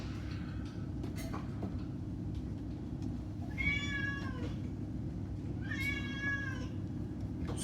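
A whiny cat meows twice in the background, each a drawn-out, rising-and-falling wail about two seconds apart, over a steady low mechanical hum from a GE washer under repair.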